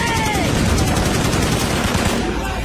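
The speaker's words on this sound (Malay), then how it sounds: "disusuli tembakan anggota PKM lain terhadap mayat-mayat yang bergelimpangan" Dramatized gunfire in a staged shooting reenactment by communist insurgents firing on fallen bodies, a loud, continuous barrage of shots filling the whole moment.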